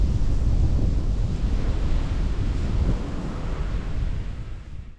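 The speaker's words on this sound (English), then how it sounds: "It's still crazy windy out there though" Strong wind roars steadily outside a tent in winter, a continuous low rushing that eases slightly toward the end.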